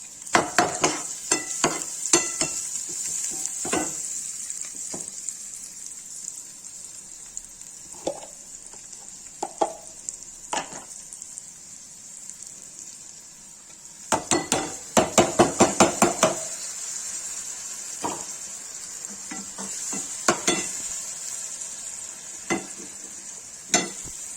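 Onion frying in a pan with red chili and turmeric added, a steady high sizzle broken by repeated sharp clinks and scrapes of a spoon against the pan, some in quick bursts, no talking.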